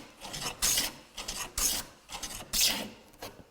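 A hand plane shaves wood stock in repeated rasping strokes, about four firm passes in a steady rhythm, close and crisp with short gaps between them.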